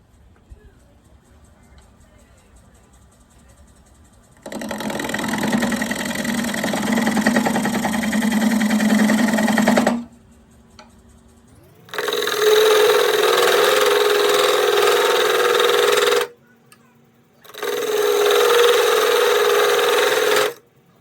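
A wood lathe turns a small tenon on a walnut and cherry bowl mounted on a woodworm screw. Three separate loud stretches of humming, whirring spin are split by quieter pauses.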